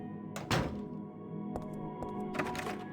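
Door handle of a locked door rattled and tried in the survival-horror game Silent Hill 3, a few dull thunks and clunks over a low, droning ambient background, with no voices.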